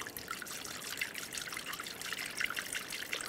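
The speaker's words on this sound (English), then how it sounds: "Using a funnel, you can add the appropriate coolant." Coolant poured through a funnel while refilling a 2009-2013 BMW 328i xDrive 3.0L inline-six during a water pump replacement, a soft, steady trickle and gurgle close by.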